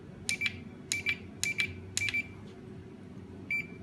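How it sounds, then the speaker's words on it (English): A solar-powered wireless home security intruder sensor emits short, high electronic beeps while pairing with its receiver: four evenly spaced quick beeps, then a fifth after a pause, clear over a quiet low room hum. "It has several short beeps prompt, and the indicator light will be red for about 30 seconds."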